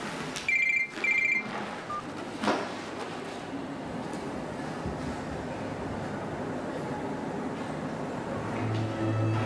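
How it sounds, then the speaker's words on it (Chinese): A telephone rings in two short, bright bursts near the start during an indoor drama scene, followed by a single soft knock and then steady low room hum. "对不起，接个电话。"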